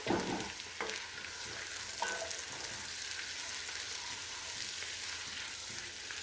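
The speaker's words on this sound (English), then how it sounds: "we're just going to cook our onions until they're nice and tender" Onions sautéing in a pot for broccoli cheddar soup hiss in a steady, close sizzle that runs throughout, with a couple of light scrapes of stirring near the start and no voices.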